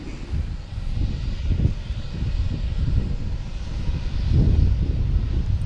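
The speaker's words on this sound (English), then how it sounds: "We have JetBlue and A220 coming in from San Juan, flight 862" A JetBlue Airbus A220 arriving at Boston Logan Airport, its engines a broad, steady roar that rumbles and surges slightly as it passes close by, with no voices over it.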